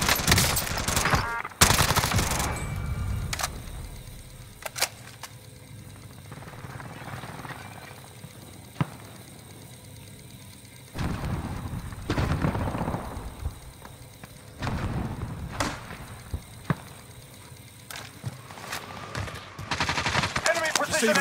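Two teams trade gunfire in the Call of Duty: Modern Warfare video game, with sharp bursts and single shots cracking intermittently, some close and loud, others more distant, between quieter gaps.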